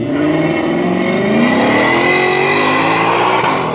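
A 5-litre car fitted with a 2.3-litre screw supercharger pulls hard through a semi-final run at American Cars Mania 2019, its loud engine note climbing steadily in pitch as it accelerates, with no voices over it.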